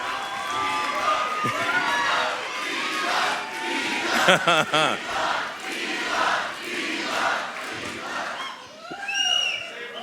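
A crowd at an Elon Musk town hall cheers and shouts loudly and steadily, with brief bursts of chanting and yelling from many voices.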